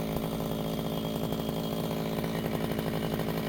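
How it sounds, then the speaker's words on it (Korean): A brush cutter mows grass around a rice paddy in late September, its engine droning loud and steady at close range with no break. "오늘이 마지막 예초 작업이 될 수도 있는 거고"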